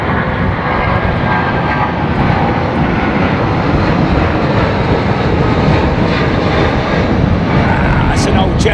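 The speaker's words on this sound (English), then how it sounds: "That's an old jetliner, that one." An old jetliner at London Heathrow Airport produces a loud, steady broadband engine roar that holds throughout, near and continuous, with no breaks or talking.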